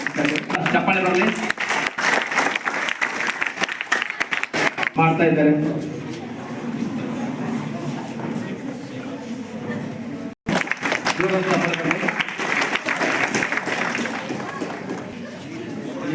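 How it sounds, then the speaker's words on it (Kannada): Applause from an audience at a Kempegowda Jayanti ceremony held by the Gokak taluk administration, a steady wash of clapping and crowd chatter running under an announcer's continuous amplified voice, briefly cutting out once midway. "ಜೋರಾದ ಚಪ್ಪಾಳೆ ಬರಲಿ ಸರ್"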